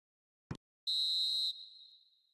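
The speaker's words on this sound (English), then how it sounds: "The whistle's gone, and that's it for the first half." A referee's whistle in an eFootball match ends the first half: one long, loud, piercing blast after a brief thump, then fading away as it echoes out.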